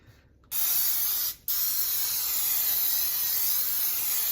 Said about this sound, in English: We're going to spray this